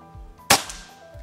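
A single sharp crack from an FX Royale PCP air rifle, one short close report with a brief tail, standing alone against a quiet background.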